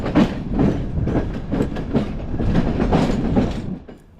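A deluxe international sleeper train running from Turkey to Bulgaria rolls along with a steady rhythmic clickety-clack of wheels on rail joints, heard close up from inside the carriage with no talking.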